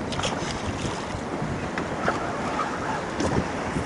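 A boat moving over open water near a jetty while fishing, with a steady rush of wind, lapping water and hull noise and the low hum of a trolling motor folded into the broad wash.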